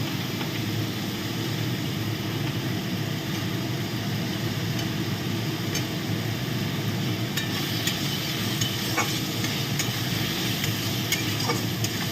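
Potatoes and spices for a Bengali chital fish muitha are stirred and fried in a pan, making a steady, dense sizzle with scraping stir strokes throughout, close and moderately loud, with no voices.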